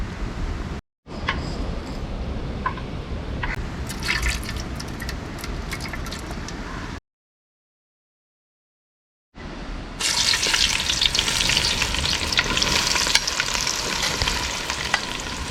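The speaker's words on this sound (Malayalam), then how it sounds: "എണ്ണ നന്നായിട്ട് ചൂടായിട്ടുണ്ട്. ഇനി ഇതിലേക്ക് കുറച്ച് ഉലുവ ചേർത്ത് കൊടുക്കാം." Fenugreek seeds sizzle and crackle in hot oil for a fish head curry, a dense, steady frying hiss that cuts out for a few seconds and then returns louder and brighter.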